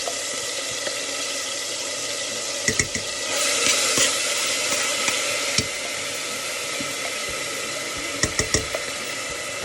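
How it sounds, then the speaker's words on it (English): Garlic sizzles in heated olive oil, a bright crackling hiss that swells for a few seconds, punctuated by several sharp clicks and utensil knocks, close by and without talk. "my olive oil is heated up nicely, so I'm going to do probably 7 or 8 teaspoons of garlic"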